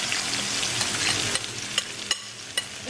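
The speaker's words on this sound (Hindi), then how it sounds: "इसके अंदर मैं ये जो है मसाला था ये डाल देती हूँ ताकि ये तक फ्राई हो जाए।" Masala for green curry chicken sizzles steadily in hot oil in a pan, close and continuous, with a few sharp clicks of a stirring spoon against the pan.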